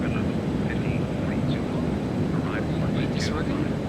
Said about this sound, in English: Alright, let's go full afterburner wing sweep.